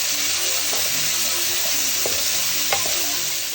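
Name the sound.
onion and garlic frying in a pan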